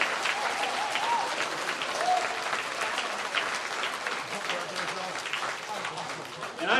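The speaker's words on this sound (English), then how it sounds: "We give these folks a round of applause" A banquet crowd gives sustained, steady applause for college head and assistant coaches at a 2021 Triton Hall of Fame event, dense clapping filling the room for the whole stretch with a few voices mixed in.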